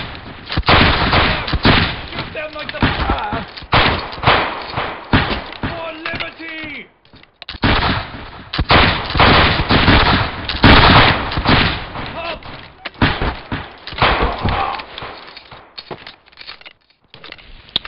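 Heavy gunfire in the video game Battlegrounds 2: loud, dense volleys of shots crackle almost continuously, with brief lulls between bursts.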